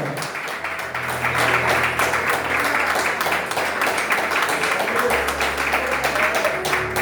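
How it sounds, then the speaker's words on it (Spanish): A church congregation claps together in sustained, dense applause at moderate loudness, with faint music-like tones underneath throughout. "Aplaude y dale gloria."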